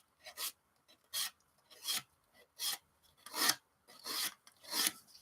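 Coarse-grit abrasive sanding the plastic part of a 1/24 scale Airfix Spitfire Mk Vb model kit, heard as about eight short, close rasping strokes in an irregular rhythm with brief pauses between them.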